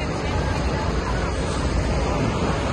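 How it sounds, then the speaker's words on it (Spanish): A large waterfall in Canada with wind-blown spray, heard as a loud continuous roar of falling water and buffeting wind close to the microphone. "Impresionante la caída de agua."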